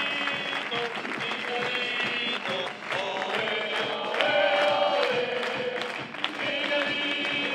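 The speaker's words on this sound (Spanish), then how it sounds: "¡Fuerte aplauso, Miguel!" Audience applause fills a Cádiz carnival performance held in Gines, a dense, steady wash of clapping and crowd noise that stays loud throughout and carries some tonal ringing within it.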